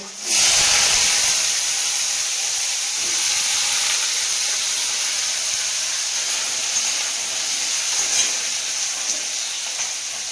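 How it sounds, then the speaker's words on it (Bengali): A loud, steady sizzle of eggplant frying in hot oil starts abruptly and continues with constant hiss throughout, close up. "বেগুনগুলো আগে ভেজে নেব"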